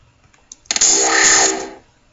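A synthesized dubstep wobble bass in FL Studio, shaped by an LFO sweeping the filter cutoff, swells in after a few soft clicks, roars loud for about a second with a pulsing modulated tone, then fades out.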